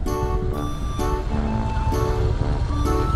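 A Harley-Davidson motorcycle engine rumbles behind a rider touring country roads near Mimata in Japan, a loud continuous low roar with shifting tonal pitch throughout.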